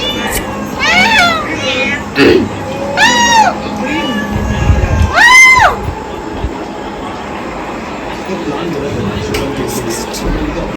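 A cat meows several times in rising and falling calls, close and fairly loud, with a person talking nearby and a steady background rumble.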